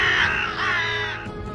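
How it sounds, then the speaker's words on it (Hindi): Several crows caw noisily together around a dead companion, harsh overlapping calls packed close over about a second and a half, loud and near. "जब भी कौवे अपने किसी मरे हुए साथी को देखते हैं तो इसके इर्द गिर्द इकट्ठे होकर शोर मचाना शुरू कर देते हैं"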